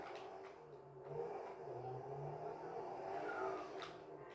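A car engine revs in a few rising and falling surges, moderately close and fairly quiet, with no talk over it.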